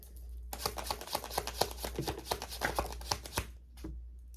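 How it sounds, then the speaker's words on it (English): Tarot cards being shuffled by hand in a steady run of quick, close riffling flutters, with no one talking. "As we're shuffling here, there you are."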